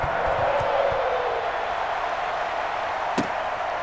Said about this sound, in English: The enthusiasm of this Cincinnati crowd in full effect a moment ago